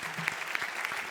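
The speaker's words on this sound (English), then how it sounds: "So I think you all of you worth a round of applause for putting yourself out" Brief, lively applause from an audience at a startup showcase event, a burst of many hands clapping fairly close.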